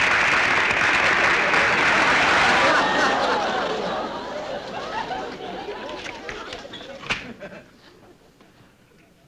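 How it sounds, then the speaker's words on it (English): A recording of thunderous applause is played back, dense clapping with crowd chatter that starts loud and steadily fades away toward the end. "A thunderous applause I received last night. I recorded it."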